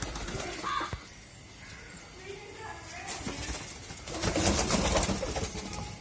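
Pet pigeons kept at home coo softly amid rustling and fluttering nearby, with a voice talking over the birds.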